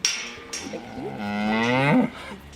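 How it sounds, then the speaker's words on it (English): A tame dairy cow in a farm shed gives a long, deep moo that swells and rises before cutting off, close and loud, with shuffling and shed noise around it and no talk. "you pet cows? Some you would have reared from calves?"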